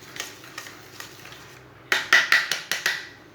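A spoon scrapes softly while sugar and oil are mixed in a bowl, then a run of six sharp, evenly spaced clinks against the bowl follows, close and clear with no talking.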